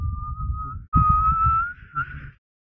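A person whistles in imitation of a tea kettle: a sustained steady tone, a brief break, then a louder pitch that slowly rises and wavers before cutting off, over low rumbling background noise.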